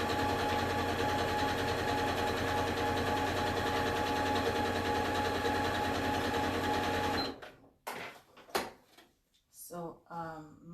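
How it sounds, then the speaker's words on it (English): A sewing machine stitching the edges of scrap fabric, a loud steady mechanical whir for several seconds close by, then it stops and a voice talks over handling clicks. "So that's why I'm using a sewing machine. So now we just sew the edges."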